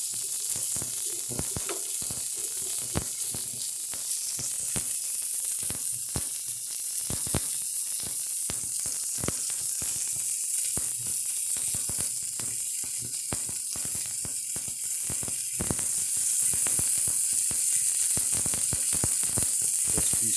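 A thick steak pan-frying gives a steady, close hiss of sizzling fat, dense with rapid crackles and pops that last the whole time, and no one speaks.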